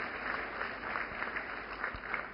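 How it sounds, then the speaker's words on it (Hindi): A crowd claps continuously, a dense steady patter of applause heard somewhat distantly, with no voices. "जोरदार तालियों से स्वागत करें"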